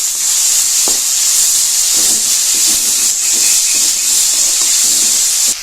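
Tomatoes sautéing with rock salt in a pan for tomato chutney give off a loud, steady hissing sizzle, with faint stirring knocks scattered through it and no voices.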